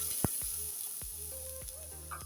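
Chitai pitha rice cakes frying in a covered pan give off a steady high sizzle, with a few soft knocks and clicks from the pan and no one talking.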